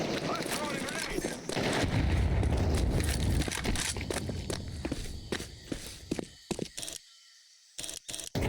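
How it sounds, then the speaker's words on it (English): In CS2, a grenade goes off and a heavy, rumbling blast fills the first half of the clip. Footsteps and game effects follow, then it cuts off abruptly. "I'm throwing a grenade!"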